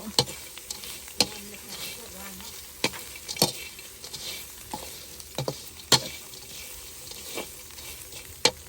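Grasshoppers fry in hot oil in a pan, a steady close sizzle broken by sharp, irregular clicks and scrapes of a utensil stirring, with no voices.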